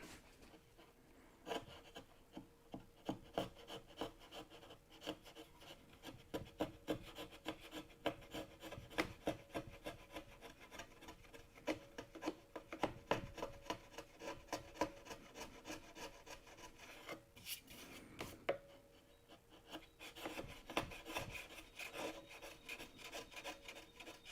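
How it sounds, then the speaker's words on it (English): Steady rhythmic rasping of sandpaper rubbed back and forth on wood by hand, close and fairly quiet, continuing without pause. "Okay, they're all ready for sanding."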